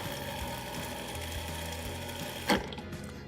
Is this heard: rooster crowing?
no